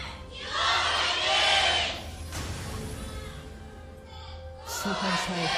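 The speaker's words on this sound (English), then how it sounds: "Fans cheering on their teams." A crowd of fans at a League of Legends esports match, SK Telecom T1 versus KOO Tigers, cheers in swelling bursts, with a loud surge early on and another toward the end.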